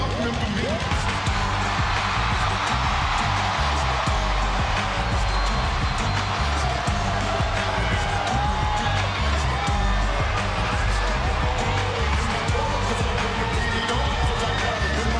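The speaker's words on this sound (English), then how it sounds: "AB making his way into a massive pop there, Charlie." A stadium crowd cheering during a wrestling entrance, a dense, steady roar of many voices held loud throughout, with an announcer talking over it.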